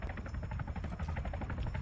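Helicopter in the game Arma 3, a close, loud, continuous rotor chop with a steady thumping pulse throughout.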